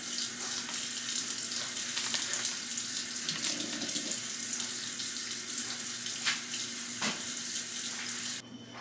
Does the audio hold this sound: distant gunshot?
no